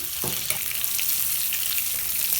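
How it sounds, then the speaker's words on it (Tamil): Brinjal sautéing in oil in a hot clay pot, giving a dense continuous close sizzle and crackle with faint stirring and no voices. "இதை நம்ம வந்து லைட்டாக வதக்கிடலாம்"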